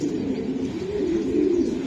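A racing pigeon coos in a low, steady murmuring run that lasts the whole moment. It is close and moderately loud, with no talking over it.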